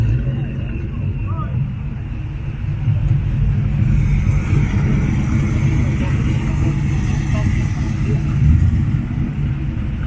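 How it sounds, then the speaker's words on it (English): A steady stream of cars rolling past at a busy car cruise, with continuous engine rumble and tire noise from close by, swelling slightly as vehicles pass, under a constant roadside wash. "look at this little stream of nice cars coming through here"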